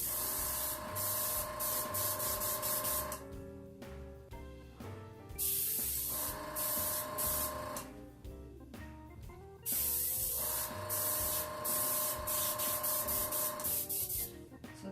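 Airbrush powered by a compressor spraying alcohol ink with compressed air, a loud steady hiss in long bursts that cut off briefly around the four-, six- and nine-second marks before resuming.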